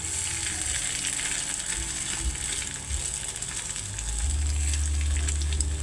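Kerak telor frying in a pan sizzles steadily and close, with scraping and clinking as the pieces are turned over, and a low rumble from the stove beneath.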